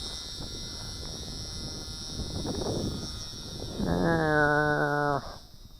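A small WLToys F949 RC Cessna 182 trainer airplane flies outdoors in wind. Steady wind rush runs throughout, and the thin motor whine rises into a clear harmonic buzz near the end before cutting off.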